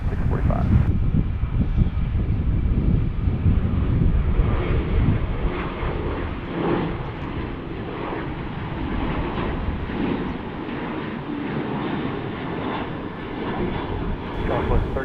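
An airliner takes off from runway 16 left at Salt Lake City, a loud, continuous deep engine roar and rumble that gradually eases as it departs, with radio voices talking over it.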